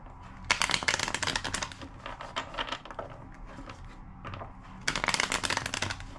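Cards are shuffled in quick riffling bursts, crisp fluttering clicks in two or three rapid runs separated by brief pauses.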